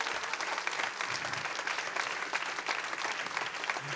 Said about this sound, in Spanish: Ahí va un aplauso.